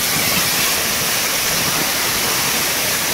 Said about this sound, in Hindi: देखो ये वाटरफॉल पे हम लोग आए हैं।